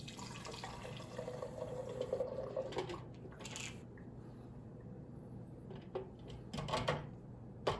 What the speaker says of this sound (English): I put the strainer over the beaker here, and I'm going to pour the water through.